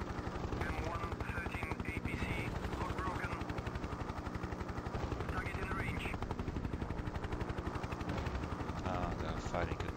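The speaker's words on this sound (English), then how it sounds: "They are firing at me." Enemy gunfire crackles in rapid bursts in the 1996 helicopter combat game Hind, over the constant rhythmic thump of rotor blades, with a voice speaking faintly in the mix.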